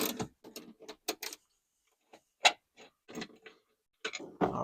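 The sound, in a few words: socket wrench ratcheting a seat belt bolt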